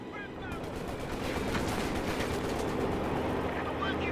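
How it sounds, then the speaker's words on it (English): Incendiary grenade bursting during a Company of Heroes 2 match, lost in a dense, continuous din of gunfire and battle noise that stays loud from start to finish. "In the meanwhile, we have a grenade going off from the Volksgrenadiers. It is an incendiary"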